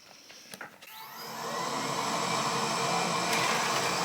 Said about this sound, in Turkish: robot süpürge çalıştı birden ödüm patladı